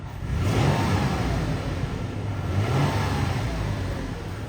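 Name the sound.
SUV engine revving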